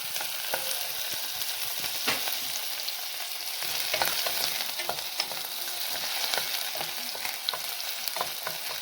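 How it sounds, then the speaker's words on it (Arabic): Chopped onion frying in hot oil, a steady soft sizzle broken by scattered crackles and occasional stirring clicks, fairly close and continuous. "وغندير شويه ديال البصله مشلطه غنشقرها غير في الزيت هكا"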